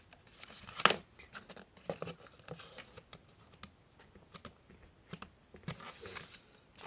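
Scissors snipping off excess material on a handmade box: a few quick, close cuts and rustling paper or card sounds, faint and irregular, with no speech.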